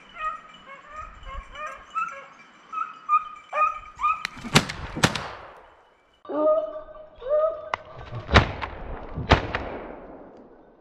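Hunting dogs on a snowshoe hare hunt give high, wavering whimpers and yelps, then sharp close barks, in two bursts separated by a brief pause.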